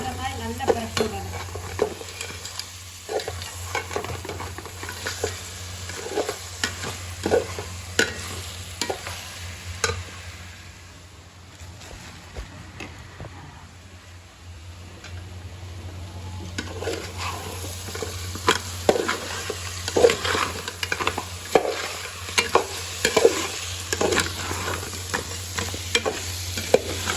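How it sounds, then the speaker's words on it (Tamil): Crab stirred and fried in masala in a pan, with a continuous sizzle and a steady rhythm of spoon scrapes and clinks against the pan, loud and close, easing briefly midway before the stirring picks up again. "நண்டை நல்லா இப்படி மசாலில் வர மாதிரி நல்லா பிரட்டி விடணும்."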